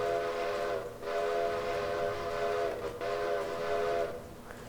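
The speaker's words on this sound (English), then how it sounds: "The whistle, really nice." A train whistle in the Railroader video game sounds in three long, steady tonal blasts with brief gaps between them, loud against a low rumbling background.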